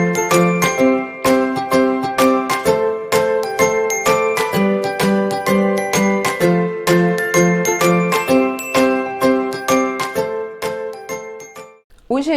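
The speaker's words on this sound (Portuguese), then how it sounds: "Solta a vinheta, DJ!" A channel intro jingle of bright, tinkling chime-like notes rings out in a steady, bouncy rhythm for about twelve seconds, loud and clean, then ends with a short sweeping flourish.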